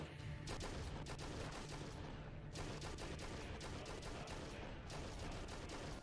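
Bolt pistol fire in an animated Ultramarines battle scene, dense fusillades of sharp shots in repeated bursts over a constant roar of combat, quiet overall with no speech.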